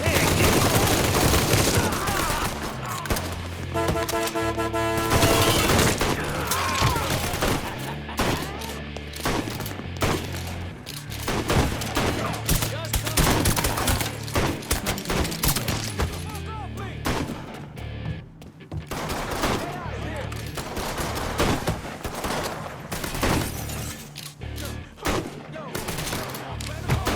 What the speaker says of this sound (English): We getting shot up here.